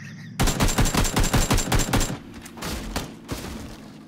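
Rapid automatic gunfire in the video game PUBG 2 rattles off in a dense, loud burst of evenly spaced shots. A few scattered, softer single shots follow, with no talk over it.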